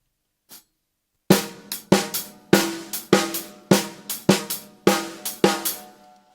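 Drums working through a 3 against 2 polyrhythm: a faint tap, then a run of crisp ringing hits in an uneven interlocking pulse, close and alone.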